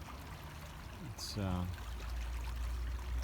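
A river that has dropped back to a moderate level, its water still slightly muddy, flowing with a steady low rushing close by, under a brief spoken word.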